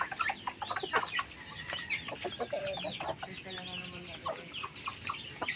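Chickens cluck and call softly around a dry garden in Campanalig, a scattered run of short clucks at moderate distance with no talking.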